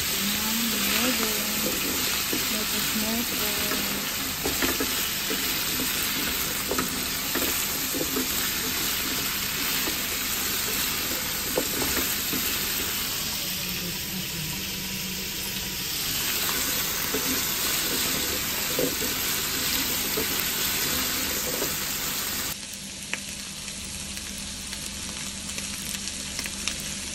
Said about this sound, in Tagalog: pinapry natin yung carrot at patatas